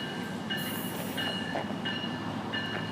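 A Tri-Rail commuter train rolls past at Pompano Beach with steady rumbling wheels, rhythmic rail clicks and faint brake squeals, close and continuous throughout.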